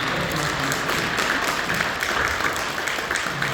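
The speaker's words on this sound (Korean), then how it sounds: "박수로 격려해 주시고" A church congregation applauds steadily through the whole stretch, an even wash of clapping with no pauses and no voices over it.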